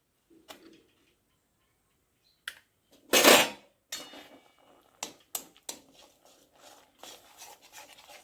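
Palm fruit pulp being stirred into milk in a pot, heard as sparse spoon clicks and scrapes against the metal with one longer rasping scrape, close and quiet between strokes.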